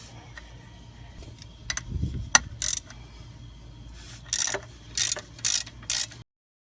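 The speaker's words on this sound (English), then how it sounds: "we're basically just going to remove all these 10mm bolts that hold the flex plate to the torque converter" A ratchet on 10mm bolts holding the flex plate to the torque converter of a 1996-2000 Honda Civic, short clicking bursts with pauses between them, close and fairly quiet.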